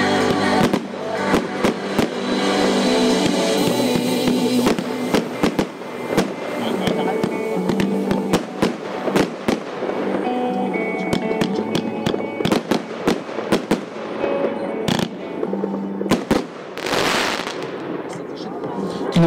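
Alexander 30 mm F2-class firework battery firing in a long rapid volley of sharp bangs and crackling bursts, dense and loud, with a brief lull near the end before a final burst.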